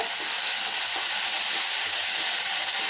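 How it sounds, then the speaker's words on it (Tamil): Onions and tomatoes frying in a pan for a bottle gourd dish, giving a steady, close hiss of sizzling that runs unbroken throughout, with no voices. "நல்லா வதங்கிடுச்சுங்க தக்காளி வெங்காயமெல்லாம்"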